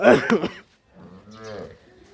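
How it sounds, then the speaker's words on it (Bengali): Dairy cows with calves on a Dinajpur, Bangladesh cattle farm: a brief voice at the start, then after a short pause one drawn-out, moderately close moo. "এইগুলো হলো গাভী ভাই"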